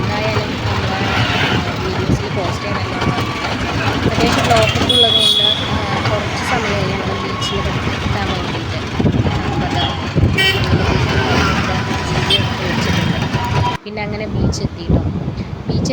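Auto rickshaw ride through busy road traffic, with steady engine and road rumble, wind buffeting the microphone, and repeated horn toots from surrounding vehicles; voices are heard under the traffic noise.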